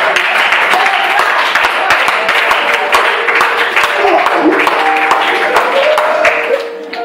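A church congregation claps and cheers to acclaim the Lord, with dense, steady applause and crowd noise that thins toward the end.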